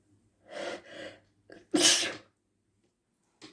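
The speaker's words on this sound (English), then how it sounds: "Sneeze on a Friday, sneeze for whoa" Two sharp inhaled breaths followed by a loud, explosive sneeze, close up, then a faint trailing sound.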